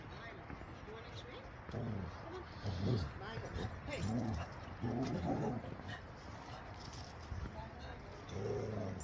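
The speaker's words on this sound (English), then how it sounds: "Oh, I got an angry dog." A small dog barks in repeated short, yappy bursts at a distance, with people talking and outdoor street noise around it.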